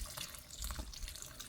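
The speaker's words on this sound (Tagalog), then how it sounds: "Tubig ulan po ito" Rainwater poured out in a garden while planting apple seedlings, a soft steady splashing trickle, close and fairly faint, running alone for a moment.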